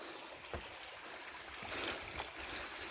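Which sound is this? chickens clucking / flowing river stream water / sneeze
flowing river stream water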